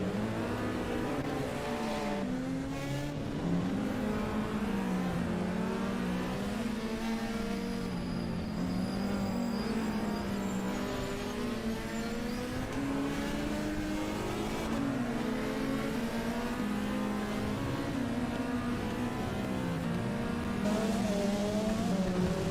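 Onboard a race car at the Coppa Paolino Teodori round of the European Hill Climb Championship, the engine revving up and down through gear changes for over twenty seconds, loud and close, alone without talk.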